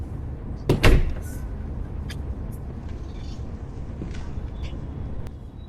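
A door is slammed shut by the wind, a single loud, close bang near the start followed by a steady rushing background noise.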